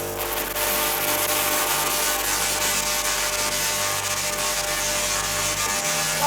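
A high-voltage wireless power transmission apparatus in the style of Tesla's designs buzzes loudly and continuously, a harsh electrical crackle with a steady hum beneath, alone with no talk.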